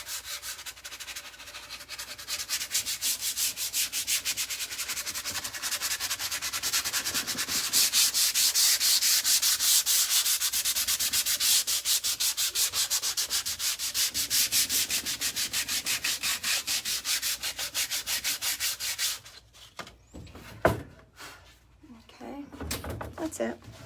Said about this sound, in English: I'm just gonna take it and I'm gonna lightly sand this. Just gonna sand away some of these edges.